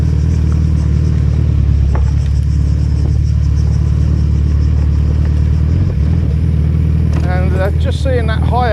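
A hire car drives past on a road on Kefalonia, its engine rumbling close and loud throughout, with a voice speaking near the end.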